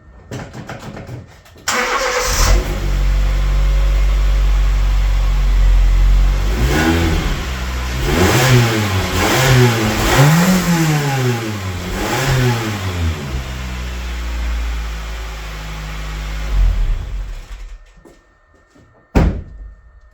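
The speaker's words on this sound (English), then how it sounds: "let's get it started up, give it a little rev, and you'll hear what she sounds like" A Honda car engine with an exhaust leak cranks and starts, then is revved several times in rising and falling surges, loud and rough up close, before a door thuds shut.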